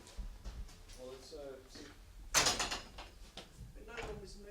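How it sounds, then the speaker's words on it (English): A door opens or closes in a haunted building in a horror film, a brief rushing, creaking burst in the middle while people talk quietly around it. "It sounded like a door."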